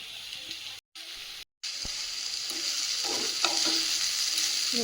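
Dal and potato bhaji sizzle steadily while frying in a pan at home, a continuous close frying hiss with brief stirring scrapes and two short dropouts near the start.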